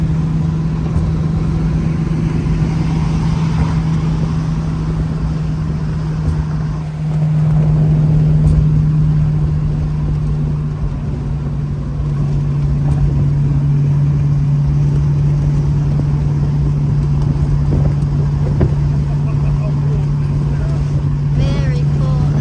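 Old cars cruising on an open road during a Power Tour drive, a steady low engine drone with a constant hum and road rumble running throughout, with occasional muffled talk inside the car.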